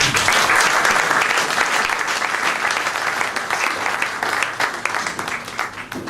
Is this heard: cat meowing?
no